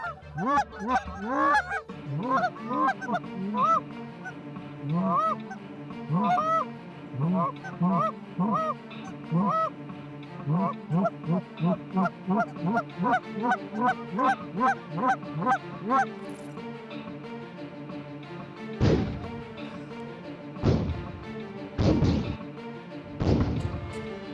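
Canada geese honk repeatedly during a goose hunt, a dense run of loud, close, rhythmic calls. Several sharp thuds or bangs follow near the end.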